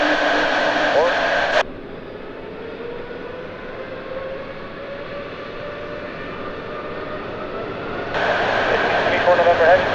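An Airbus A330 takes off from runway 28 at Zurich with a steady, rising jet engine roar running through the whole stretch, partly under radio voices at the start and end.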